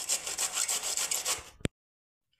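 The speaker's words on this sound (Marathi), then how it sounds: "तर बघा, अशा पद्धतीने मी कारलं किसून घेते।" Bitter gourd (karela) is grated by hand in rapid, steady rasping strokes for about a second and a half, ending in a sharp knock before near silence.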